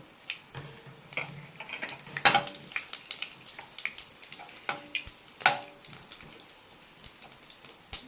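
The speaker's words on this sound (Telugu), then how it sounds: "ఫస్ట్ ఆవాలు, జీలకర్ర కొంచెం లైట్గా వేయించుకుందాము." Mustard seeds and cumin fry in hot oil in a pan, giving soft sizzling with scattered sharp pops and crackles that come irregularly, plus occasional clinks of a utensil against the pan.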